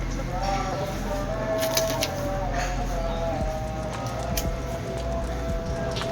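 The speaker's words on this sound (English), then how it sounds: "What is that, bird?" A bird calls on the lower slopes of Mount Kilimanjaro in Tanzania, on the Lemosho route at around 8,000 feet, giving faint repeated coos over a steady outdoor background while people talk nearby.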